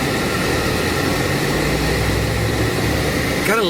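A 1993 Mercedes-Benz 190E Limited Edition sedan with a 2.3-litre four-cylinder engine idles on a cold day, giving a steady, close low rumble with a faint whine on top.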